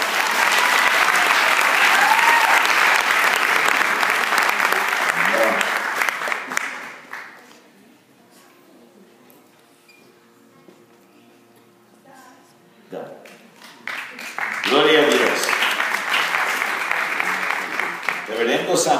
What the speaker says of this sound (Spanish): Un aplauso, hermano